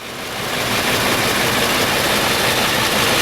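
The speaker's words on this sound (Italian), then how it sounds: "È un motore 10 cilindri AV Mercedes, gran camion" A heavy Mercedes 2632 6x4 truck's V10 engine idles close by, a loud, steady rumble that swells slightly at first and then holds constant.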